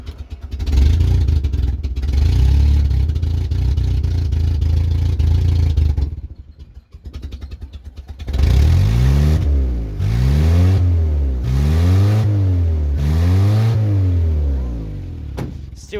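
A Land Rover Series III engine idles roughly, drops out briefly, then revs up and down in four rhythmic surges, loud and close.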